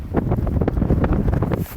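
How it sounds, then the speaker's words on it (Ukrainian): Strong, cold wind gusts across a winter barley field during a dust storm, roaring loud and close into the microphone as a steady buffeting rumble with no talk. "Вітер дуже страшний і дуже холодно."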